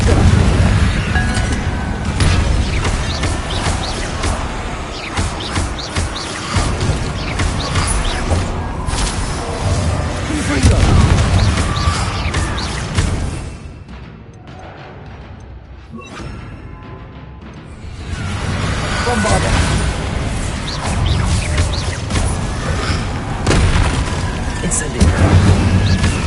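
Confringo spell explosions in a Harry Potter-style video game: repeated booming blasts and whooshes over a dense battle din, a brief quieter lull midway, with a voice shouting spell names.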